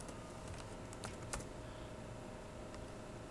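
Code being typed on a computer keyboard at a steady pace, with soft rapid key clicks and a few sharper taps over a faint hum, no talking.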